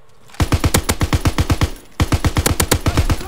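Rapid automatic gunfire from Call of Duty WWII multiplayer, two loud, close bursts of evenly spaced shots separated by a brief pause, with no talk.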